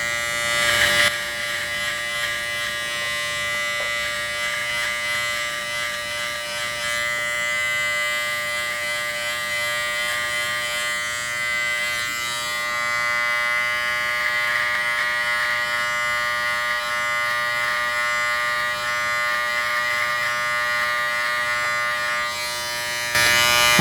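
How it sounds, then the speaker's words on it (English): A Braun Series 6 electric shaver's attached trimmer runs continuously at close range, a steady, loud, high-pitched buzzing hum with a slight wavering in tone, holding level for the whole stretch with no talking. "Let's give the attached trimmer a go first."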